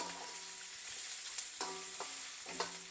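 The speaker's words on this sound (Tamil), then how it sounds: "இது நல்லா வெங்காயம் பூண்டு எல்லாம் நல்லா கொஞ்சம் வதங்கட்டும்" Onion and garlic sautéing in a pan with elephant yam, a quiet continuous sizzle broken by a few spoon scrapes and stirring knocks, close but faint, with no voices.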